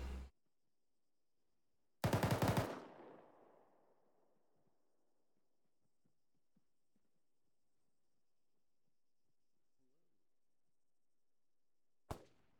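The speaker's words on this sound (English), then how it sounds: "Somebody's got the shotgun out there." A shotgun fires in a video game, one loud close blast that trails off into a decaying rumble, followed by near silence and a second short sharp report at the end.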